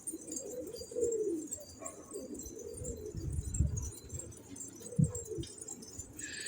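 Soft, low pigeon coos repeat a few times against a steady outdoor background hum, with faint rustling in between.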